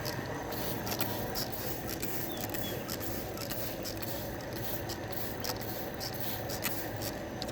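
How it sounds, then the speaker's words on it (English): A steady, close hiss of spray paint on a Mustang wheel runs without a break, with faint scraping and clicking underneath. "Might spray it again"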